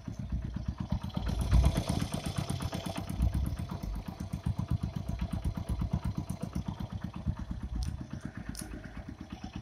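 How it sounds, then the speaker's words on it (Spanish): A Honda Eco Deluxe motorcycle engine idles steadily in neutral nearby, its even, rapid putter chugging along without revving, faint and unaccompanied by talk. "Y escuchen el sonido del motor."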